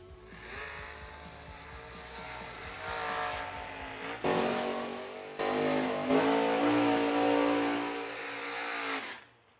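A drag racing car engine at the burnout box of a quarterfinal round revs hard and loud, climbing and surging in pitch with sustained roaring bursts, then cutting off abruptly.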